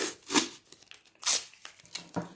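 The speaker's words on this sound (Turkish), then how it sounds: "Şimdi bunu kağıt bantla bantlıyoruz arkadaşlar." Paper masking tape is torn and pressed down while fixing an electrical cable on a toy, giving a few sharp ripping bursts with quieter rubbing and crinkling between them.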